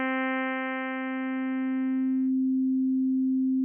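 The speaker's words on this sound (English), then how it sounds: "More sine wave down there." A Pure Data software synth tone thins out as the mix shifts toward its sine wave oscillator, the buzzy harmonics dropping away after about two seconds to leave a steady, pure, loud hum alone.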